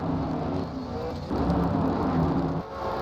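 Stock cars race around a track during a Grand National Series race, their engines roaring in a steady drone. The pitch shifts and swells as the cars pass close together.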